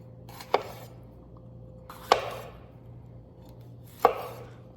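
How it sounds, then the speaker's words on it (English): Bell peppers sliced with a knife on a cutting board: three sharp, isolated chops spaced about a second and a half apart, close and crisp against a quiet kitchen background. "We are going to just slice these up. Nothing crazy. Just typical bell pepper slices."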